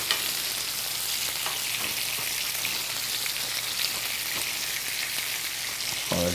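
A steak sizzles steadily in a hot pan while being basted with butter, a close, continuous frying hiss with a brief scrape near the end and no talk.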